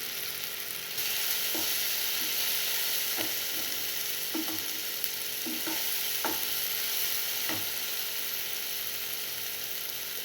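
Carrots and beans stir-fried in a pan for rava kichadi hiss in a steady sizzle, with a handful of separate clinks and scrapes as a utensil stirs them. The sound is close, and no one talks.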